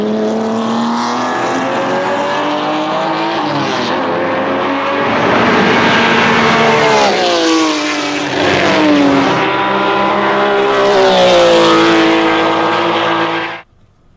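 A 1950s classic GT car built by Scaglietti with Pininfarina styling and a 3.3-liter V12 engine is heard as a loud, sustained engine roar. Its pitch rises and falls through the gears across the clip, and the sound cuts off abruptly near the end.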